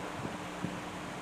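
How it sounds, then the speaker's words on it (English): A brief gust of wind rushes past near a small wind turbine on a hilltop, a broad steady roar of wind noise buffeting the microphone, with no talking. "a little bit of a gust"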